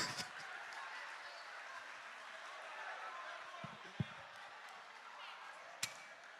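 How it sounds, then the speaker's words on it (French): At a comedy festival show in Mali, a crowd applauds in a steady, fairly faint wash of clapping, with a couple of sharp knocks near the end. "Est-ce qu'on peut applaudir, s'il vous plaît?"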